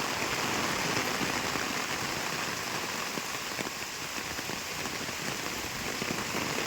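Heavy rain pours down steadily, a dense roaring hiss of drops drumming on surfaces with no pauses and no voices.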